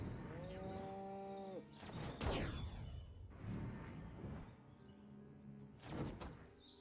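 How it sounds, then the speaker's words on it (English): Cows moo in the video game Destroy All Humans!, sounding several long, drawn-out calls with thuds and game effects in between, at a fairly low level. "You gotta kill a scientist with an exploding cow."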